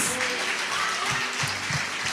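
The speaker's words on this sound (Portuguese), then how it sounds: "Aplauda mais forte ao Senhor Jesus" Sustained applause from a large church congregation, dense and steady throughout, with a few louder claps standing out near the end.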